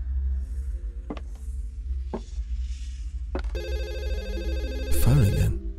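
In a horror video game, a few sharp knocks and thuds give way to a telephone ringing with a loud, harmonic electronic bell tone that repeats steadily over a low ambient hum.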